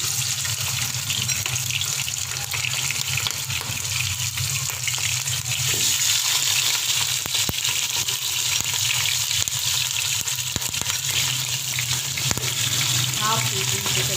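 Chicken frying in a pan with black cumin for Bombay biryani, a dense, steady sizzle heard close, broken now and then by stirring scrapes and clinks.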